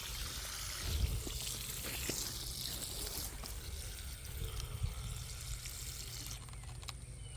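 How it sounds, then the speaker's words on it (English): A garden hose runs in a spring garden, giving a faint, steady trickling and pouring of water that continues without a break. "and we have the water hose over here."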